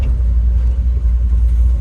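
A 1972 Ford F-250 Ranger 4x4 pickup with a 390 V8 and a four-speed drives along, its engine a steady, loud, low rumble that stays constant throughout with no talking.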